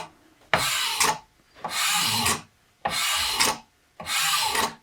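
Rasp filing on the wooden stock of a Traditions St. Louis Hawken rifle kit near the nose cap: four long, loud, evenly paced strokes, close up, with short pauses between them and no talk.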